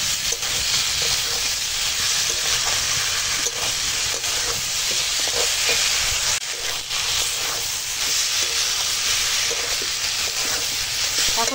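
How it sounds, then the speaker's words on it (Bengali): Fried pointed gourd (potol) is sautéed in a pan, producing a loud, continuous, close-up sizzle and hiss throughout, with faint scraping of a spatula stirring underneath. "দিয়ে এখন ভালো করে কষাবো।"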